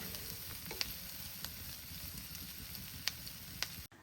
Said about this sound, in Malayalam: ആ ഒരു സവാളയും ക്യാപ്സിക്കോ ഒക്കെ ചെറുതായിട്ടൊന്ന് വഴന്നു വരുന്നത് വരെ ഒന്ന് മിക്സ് ചെയ്തുകൊണ്ടിരിക്കുക